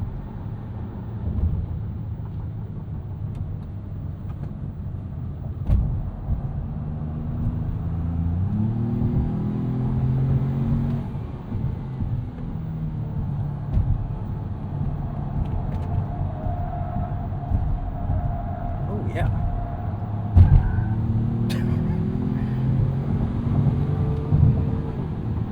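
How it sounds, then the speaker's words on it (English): A 2025 Ford Maverick Lobo compact turbo pickup accelerates hard up a highway entrance ramp, its engine droning and rising in pitch through the gears over steady road and wind rumble, with brief knocks along the way. "Let's try and bring some light to the situation by taking a spirited entrance ramp here in Lobo mode."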